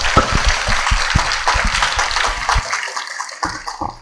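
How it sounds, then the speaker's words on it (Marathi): An audience at a Marathi speech event applauds, with a burst of dense clapping up front that thins into scattered, fading claps and a few final ones toward the end. "त्या सरांसाठी परत एकदा डोळेदार टाळ्या वाजवा."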